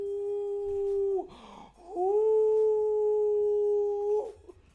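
A man imitates a wolf howl with his voice, two long sustained vocal howls broken by a brief gasp between them, close and fairly loud with no other speech.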